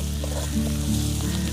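Crushed garlic frying in a pan with onion and chili, a constant dense sizzle with faint stirring clicks, close and steady throughout.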